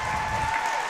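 Brief burst of crowd applause at a youth roller derby bout, dense even clapping from the stands lasting about a second, moderately loud and steady throughout.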